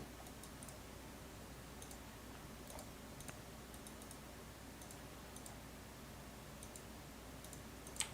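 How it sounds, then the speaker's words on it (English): Soft, quiet clicks from the Minecraft video game recur in loose clusters over a steady low background hum, faint and evenly spaced throughout with no talking. "I really don't like the new clicking."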